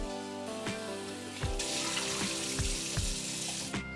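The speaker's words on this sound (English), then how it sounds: "And rinse a few times under cold water." Peeled, chunked potatoes are rinsed under a cold running kitchen tap, a steady close stream of water with several clunks and splashes as the pieces are moved about.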